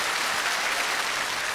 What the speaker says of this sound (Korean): 수고하신 분들에게 박수 주시기 바랍니다.